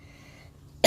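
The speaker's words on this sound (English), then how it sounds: "It's been 6 weeks with this cough." A single sharp cough from a weeks-long lingering cough bursts out at the very end after a quiet stretch.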